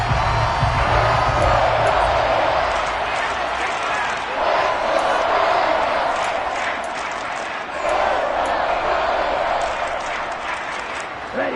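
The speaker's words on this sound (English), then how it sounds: "shouts from this crowd as they watch the replay" A large football stadium crowd at a divisional playoff game roars and shouts continuously as fans watch a replay, a dense, loud wall of voices with swelling peaks.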